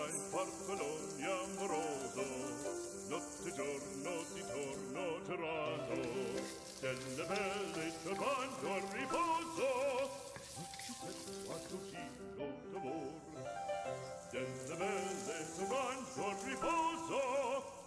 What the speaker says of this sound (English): we have to stir first and achieve the golden brown color of our onions